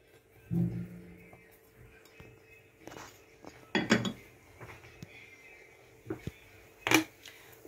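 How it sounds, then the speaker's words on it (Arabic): A metal cooking pot is set down with a sharp clank, then a few more clinks and knocks of pots and utensils follow at intervals in a quiet kitchen, with faint low talking between them. "غادي نحطوا الاناء اللي غادي نخدموا فيه ان شاء الله، وغادي نديروا فيه البصيله"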